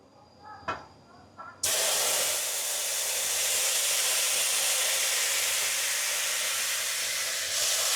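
Aamer tok, a sour mango dish, goes into a hot pan with mustard seeds and sets off a sudden loud sizzle. The hiss holds steady after a few soft clinks and knocks.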